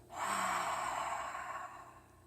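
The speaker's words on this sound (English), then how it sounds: "on our exhale, we're going to open our mouth, exhale a gentle." A single gentle, breathy open-mouth exhale during ujjayi yoga breathing, sighing out steadily for about two seconds, close and soft, then fading at the end.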